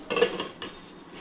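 A metal lid is set onto a cooking pot, giving a short clattering clink followed by a second lighter knock, close and brief.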